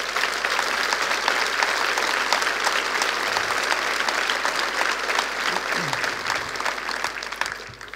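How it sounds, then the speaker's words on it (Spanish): Church congregation giving loud, sustained applause, a thick continuous roar of many clapping hands that keeps going without pause, with faint voices mixed in. "Dar un aplauso fuerte al Señor."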